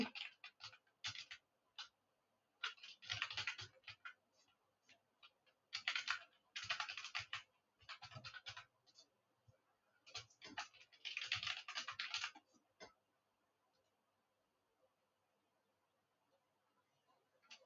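Someone types a Gmail ID on a computer keyboard: quiet bursts of rapid keystrokes separated by short pauses, ending in a longer stretch of near silence.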